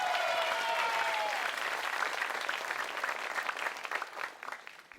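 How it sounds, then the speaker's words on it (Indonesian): Studio audience at an Indonesian televised religious talent competition breaks into sustained applause, a dense wash of clapping that fades gradually over about five seconds, with a brief tonal sound early on. "Tapi sebelumnya tepuk tangan dulu untuk Hilal Makassar."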